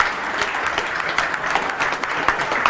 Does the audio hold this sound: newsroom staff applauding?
yes